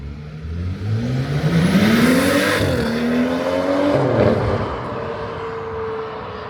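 A BMW 335i with a Resolute exhaust and stage 2 tune passes by, engine revving up through a loud rising pull as it approaches, then fading into a steady drone as it moves away.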